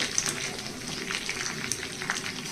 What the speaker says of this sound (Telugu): నాలుగు వేసానండి ఈ నాలుగు వేగిన తర్వాత మిగిలిన ఫ్రై చేసుకోవచ్చు